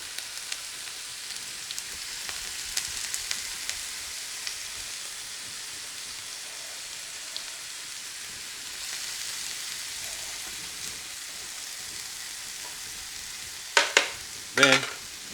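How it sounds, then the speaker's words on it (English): Sauerkraut dropped into hot butter oil beside a Reuben sandwich on the griddle, giving a steady faint sizzle and hiss with light crackles throughout, then a couple of sharper clatters near the end and no talking. "a little bit more of the butter oil. We'll go ahead, drop our sauerkraut."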